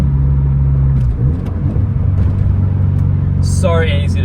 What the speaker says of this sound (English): Just the downshift. Hearing that rumble.